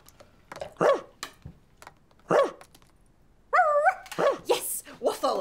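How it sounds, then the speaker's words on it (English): Dog barking, with several short, separate barks and a brief whine-like yip between them, close and moderately loud, with a voice talking alongside. "I can woof to you, and you can woof to me"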